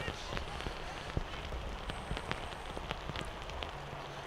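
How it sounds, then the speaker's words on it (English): Heavy rain pouring down at an outdoor rugby ground, a dense steady hiss of drops hitting surfaces with scattered sharper splats throughout. "As the rain drives down here."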